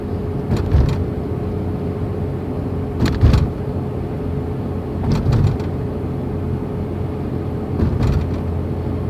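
A car crossing the steel grate deck of the Mackinac Bridge at moderate speed produces a steady droning road hum inside the cabin, with periodic thumps and rattles rising every couple of seconds.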